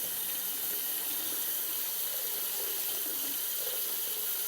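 A kitchen tap runs steadily into a sink, filling it with warm, sudsy dish-liquid water for washing a finished cross-stitch piece; a continuous hiss of flowing water with no talking.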